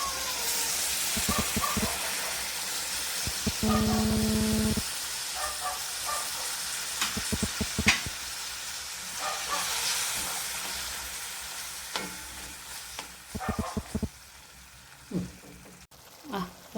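A pan of onion curry with tamarind water bubbles and simmers with a steady hiss, broken by scattered clicks and clatter from utensils close by.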